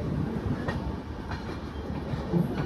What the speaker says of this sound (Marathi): सध्या गाडी आली आहे हिंगोलीच्या प्लॅटफॉर्म नंबर 2वर